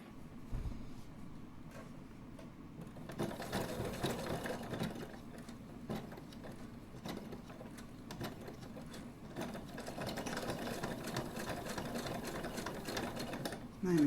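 Domestic sewing machine running lock stitches on a fabric shoulder bag, a rapid mechanical whirring in short bursts and longer runs, close and fairly quiet, with brief pauses between seams.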